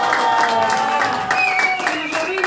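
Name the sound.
applause at birthday celebration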